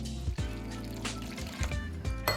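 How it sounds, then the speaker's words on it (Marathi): Water trickles and splashes in small bursts into amaranth-flour dosa batter in a container, close by, against a steady low hum. "थोडं थोडं पाणी मी त्याच्यामध्ये टाकते आणि हे सगळं व्यवस्थित मिक्स करून घ्यायचं आहे"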